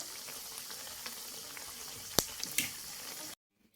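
Bala-bala vegetable fritters fry in a pan with only a little oil, giving a steady soft sizzle broken by a couple of sharp clicks as they are turned. The sound stops abruptly near the end.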